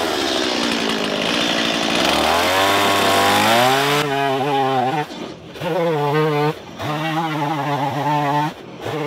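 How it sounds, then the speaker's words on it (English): Chainsaw at an off-grid log cabin pull-started and revving up, then running loudly with repeated throttle bursts and brief dips, close by. "If my chainsaw would start."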